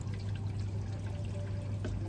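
A 1,000 litre an hour pump drives water through a hydroponic garden pipe system into a 44 gallon drum, making a steady continuous trickling pour nearby with no talking.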